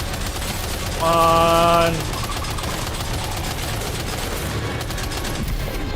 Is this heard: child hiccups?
no